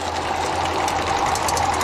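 A Ukrainian EGK 80/100 extruder's motor runs under load at its first startup, giving a steady mechanical drone with a faint hum and rapid rattling texture, close and continuous for under two seconds, with no talking.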